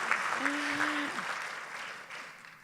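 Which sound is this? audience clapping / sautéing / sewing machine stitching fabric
audience clapping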